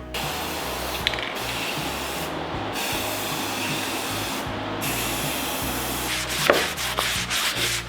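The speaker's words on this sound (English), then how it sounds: "in between coats, we're just giving a little wet sand to help the paint be a little bit smoother since the plastic had a lot of scratches" Wet sanding of scratched plastic go-kart bodywork between paint coats, a steady close rasping rub with brief pauses between strokes, loud and continuous with no voices.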